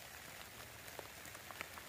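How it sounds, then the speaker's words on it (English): Rain patters steadily and faintly on a tent, with a few slightly louder drops standing out from the soft, even hiss. "I'm going to sit here in the rain."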